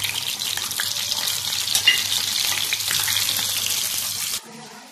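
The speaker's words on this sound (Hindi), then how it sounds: "ये मैंने तवे पे ऑयल डाला है, ऑयल गरम हो गया है, तो अब मैं इसको हल्का हल्का फ्राई करूँगी।" Chicken seekh kebabs fry in hot oil on a tawa, a steady close sizzle that cuts off abruptly near the end.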